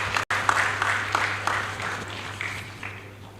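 Applause at a decoration ceremony for newly promoted officers and men of a corrections service in Nigeria; a steady crowd clapping, moderately loud and continuous, with a low hum beneath and a brief dropout near the start.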